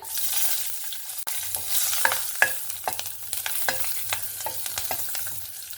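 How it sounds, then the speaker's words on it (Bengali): Nigella seeds and green chilies crackle in hot oil for mustard hilsa, a steady close sizzle broken by sharp pops and spatula scrapes, no voices. "আর ইলিশ মাছ মানেই কালো জিরে, কালো জিরে ফোড়নে দিয়ে দেব। দুটো কাঁচা লঙ্কা,"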